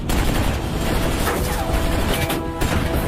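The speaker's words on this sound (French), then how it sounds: "Attention, c'est la mitrailleuse qui nous tire dessus!" Rapid machine gun fire in a war scene from an action movie: a dense, continuous loud burst of shots that barely lets up from start to finish.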